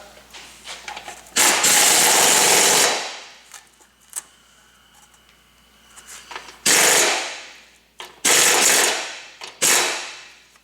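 A power ratchet or impact tool tightens a castellated nut on a Honda Accord upper ball joint, running in three loud close bursts separated by quiet pauses with faint clicks.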